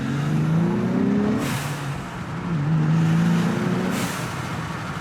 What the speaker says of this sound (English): blow-off valves, you can hear them, they work